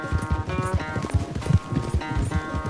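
A horse galloping in Red Dead Redemption 2, rapid rhythmic hoofbeats thudding close and steady with no pauses, the game's fast clip-clop running alone for a few seconds.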